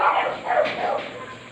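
Several dogs bark near a shallow stream where people are fishing, the yapping mixed with running water and brief outdoor noise.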